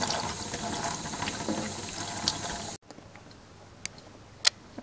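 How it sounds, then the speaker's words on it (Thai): Mushrooms washed under a running kitchen tap, a steady broad rush of water for almost three seconds, then a sudden stop leaving a quiet room with a few scattered ticks and light clinks. "โอเคค่ะเราก็ล้างเห็ดเสร็จแล้วนะคะ"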